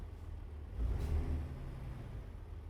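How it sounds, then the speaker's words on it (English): A Peterbilt truck engine in American Truck Simulator gives a low, steady diesel rumble that swells briefly as it revs, then settles back to an idle drone with no talk. "One thing that I absolutely love about this game is just the sounds of the trucks."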